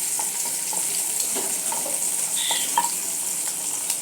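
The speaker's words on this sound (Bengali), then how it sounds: "তাতে আমি 3টে কাঁচামরিচ দিয়ে দিলাম, গোটাল কাঁচামরিচ" Three whole green chilies frying in hot oil with browned onions for a chicken and potato curry, giving a continuous bright hiss with a few small pops and crackles.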